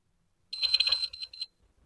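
A continuity tester beeps while a 1/4 inch locking cable jack is being checked. The short, bright electronic tone lasts about a second with a slightly uneven, crackly quality and is heard alone, close by.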